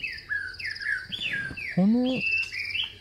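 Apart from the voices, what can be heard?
birds singing in a video game forest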